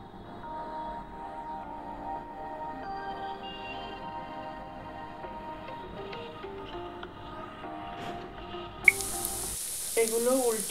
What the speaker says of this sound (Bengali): এগুলো উল্টিয়ে লাল লাল করে ভেজে নিয়েছি।